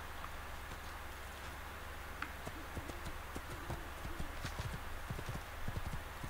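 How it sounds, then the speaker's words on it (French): Horse hooves clip-clop in the video game Assassin's Creed 2, a faint, quick irregular clatter of hoofbeats growing denser toward the end beneath a steady background hiss. "C'est un cheval ça?"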